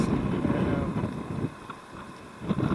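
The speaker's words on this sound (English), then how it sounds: "wind is relentless" Strong, relentless wind on the coast at Jericoacoara, Brazil roars across the microphone in a dense, low rumble, gusting and easing slightly over a few seconds with no voices.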